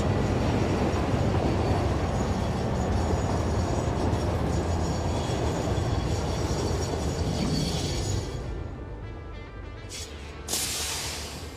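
Loaded train running on tracks in the game Satisfactory, a loud continuous rumbling roll with metallic clatter and faint squeal, easing off and thinning toward the end before a short swell.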